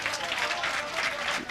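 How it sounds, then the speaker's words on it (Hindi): Loud, dense clapping from an audience at an All India Mushaira Urdu poetry gathering in Digras, a brief burst of sustained applause filling the hall, with no speech over it. "सलीम चौहान के लिए आप ज़ोरदार तालियां जम जाएं"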